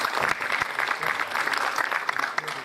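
An audience at an all-India mushaira of Urdu poetry in Bhopal, held by the M.P. Urdu Academy, claps in dense, steady applause that fills the hall throughout.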